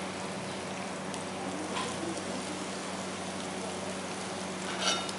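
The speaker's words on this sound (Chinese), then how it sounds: "炒一炒，让它有一点黄黄。" Food stir-frying in a wok, producing a steady, even sizzle and crackle throughout with no talking.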